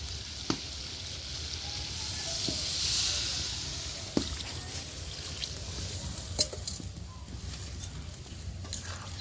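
Chicken curry sizzling in a pot on an outdoor clay stove as water is poured in for gravy, a steady hiss with a broad steam surge and a few sharp clinks, moderately close.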